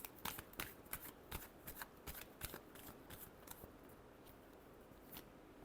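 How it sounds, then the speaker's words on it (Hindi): Tarot cards being shuffled by hand, a quiet run of papery riffles and flicks in an irregular rhythm, heard close and alone. "last shuffle"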